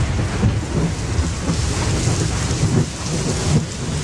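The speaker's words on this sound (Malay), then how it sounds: "bunyi dentuman guruh yang agak kuat" Heavy rain pours down outside a house while thunder rumbles loud and close. The downpour is a dense, constant roar with low booms rolling through it.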